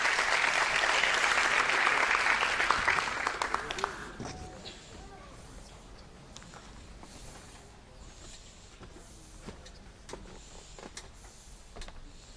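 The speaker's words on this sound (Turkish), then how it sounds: "alkışlarla sahneye davet ediyoruz." Audience applause at a documentary film festival gala: loud sustained clapping for about four seconds that fades into quiet hall ambience with scattered faint claps.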